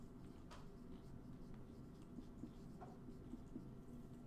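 A marker or chalk scratches across a board during a classroom lecture, faint short strokes and taps over a steady room hum, with no talk.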